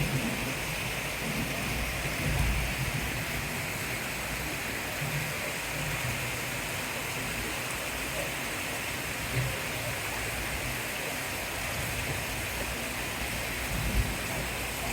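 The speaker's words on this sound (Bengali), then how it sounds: "ঝুম ঝুম ঝুম ঝুম করে বৃষ্টি পড়ছে।" Heavy rain pouring steadily outside a balcony, a dense continuous hiss with faint low rumbles of distant thunder underneath, unbroken for the whole stretch with no voices.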